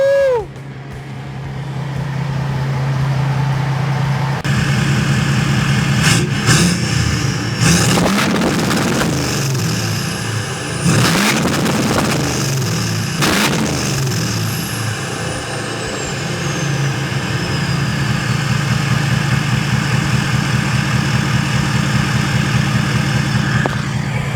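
Tuned 2023-2025 Ford 6.7 Powerstroke diesel truck with a 650 whp limiter tune, idling then revving hard several times with rising and falling engine roar and turbo whine, settling back to a loud idle.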